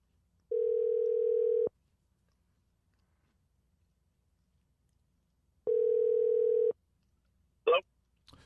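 Telephone dial tone while a call is placed: a steady hum plays for about a second, stops, then returns for another second after a long silence, followed by a short burst of other sound.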